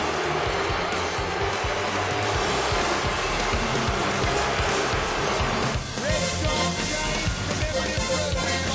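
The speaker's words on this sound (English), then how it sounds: "A different crowd reaction 3 batters later." A crowd at Fenway Park in Boston reacts during a Red Sox–Giants interleague baseball game, a dense, sustained roar of cheering and noise that swells louder partway through.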